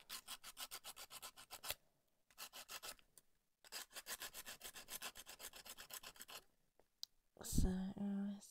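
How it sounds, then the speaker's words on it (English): Someone files down a resin Halloween cake stand by hand, producing close, rhythmic rasping strokes in quick bursts separated by short pauses, ending with a brief louder clatter. "sort of filing down a bit."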